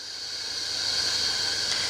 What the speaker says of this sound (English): because it still blows steam for a wee second